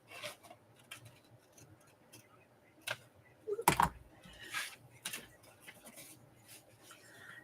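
Paper craft pieces being cut by hand with scissors, a few quiet snips and rustles in a near, otherwise calm setting, with one sharper burst of handling noise midway.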